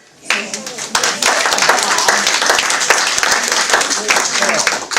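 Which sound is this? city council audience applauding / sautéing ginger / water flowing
city council audience applauding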